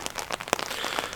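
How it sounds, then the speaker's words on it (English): Steady rain falls outdoors along the New York State Canal system, dense and close with scattered sharper drop impacts tapping through a continuous patter, no voices over it. "The rain did come, and it's raining now."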